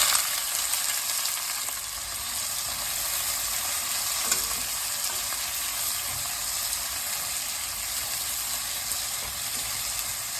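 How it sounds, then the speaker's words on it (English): Two large finely chopped onions fry in oil in a pan for a pressure-cooker dum aloo, giving a steady, close, even sizzle that runs throughout with no talk. "In goes 2 large onions chopped finely."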